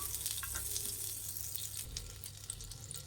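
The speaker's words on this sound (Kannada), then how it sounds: "ಇದೊಂದು ಸ್ವಲ್ಪ ಬೆಣ್ಣೆ ಕರಗಲಿ" Butter melting and sizzling on a hot tava, a soft continuous frying hiss with faint crackles, close and fairly quiet, no talk.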